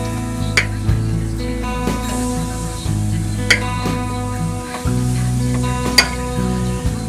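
Sausages sizzle over charcoal on an offset grill, a steady frying hiss running throughout with occasional sharp pops and brief crackles as the links settle on the grate.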